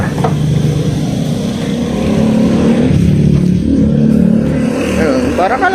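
Small Piaggio Ape 200cc EFI three-wheeler engine running steadily while driving, a continuous low drone that holds throughout, with a slight rise near the middle and faint background noise.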